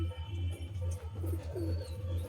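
Giribaj pigeons at a home sale in Amta coo softly in short, repeated throaty phrases over a low background hum.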